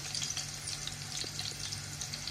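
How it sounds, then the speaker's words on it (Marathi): Crushed garlic and turmeric sautéing in a pan over a low flame, a soft, steady sizzle with faint crackles and occasional stirring scrapes, close and quiet, no talking. "आपण लसूण ठेचून घेतलंय ना, तेही घालूया. थोडं परतवायचं."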